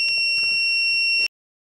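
A PAN Allrounder 200AD voltage tester gives a steady, loud, high electronic beep on a lamp continuity test, held for just over a second before cutting off abruptly.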